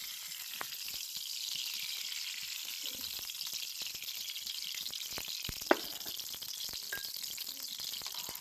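Butter melting in a hot kadai for a vegetable pasta, a faint, even sizzle hissing steadily with an occasional soft knock.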